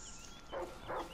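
A dog in the video game Far Cry New Dawn gives two short, fairly faint barks or yips in quick succession, heard alone without talk.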